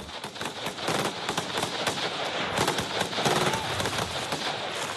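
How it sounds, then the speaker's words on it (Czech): Live machine gun fire during French Foreign Legion (2nd REP, GCP) training, dense rapid bursts of sharp cracks overlapping continuously, loud and close throughout with no voices. "Pálí se ostrým a tím pádem je nutná perfektní koordinace"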